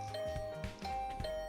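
A doorbell chimes in the video game The Hundred Line: Last Defense Academy, a soft repeated ding tone over quiet game music, fairly faint with no talk.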